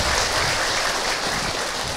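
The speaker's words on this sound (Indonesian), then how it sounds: "Tepuk tangan buat orang Bogor." A dense burst of clapping from the audience at a religious gathering, loud and continuous throughout.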